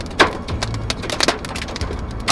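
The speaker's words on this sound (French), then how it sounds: "Il y a de la grêle." Small hail ticking and pattering in scattered sharp clicks during a storm chase, some hits close and crisp, over a soft background hiss with no talking.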